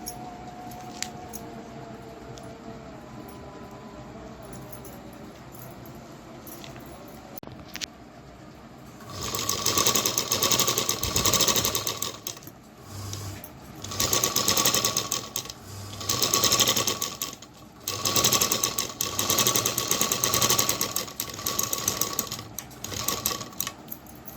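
A domestic sewing machine stitches the skirt area of a saree, running in several steady, fairly loud bursts separated by short pauses after a quiet opening stretch, with no one talking.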